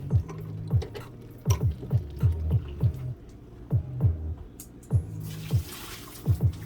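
Water draining from cooked Kings Noodle hot and sour instant noodles, a run of low gurgling glugs and splashes coming in uneven bursts, close by with no talking.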